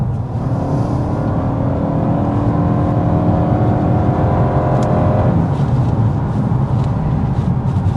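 A 2025 Toyota Camry XSE hybrid with an eCVT accelerates, a loud steady engine drone that climbs smoothly in pitch, heard from inside the car without talk.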